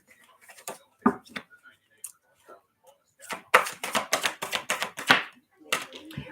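A deck of cards being shuffled by hand gives a run of quick crisp riffling and tapping bursts, sparse at first and then dense and rapid, close and fairly loud.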